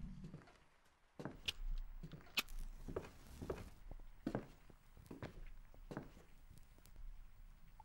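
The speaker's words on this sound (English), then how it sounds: "Do I hear footsteps?" Footsteps in a horror video game, a quiet, uneven series of soft thuds and scuffs at close range, with faint clatter between them and no talking.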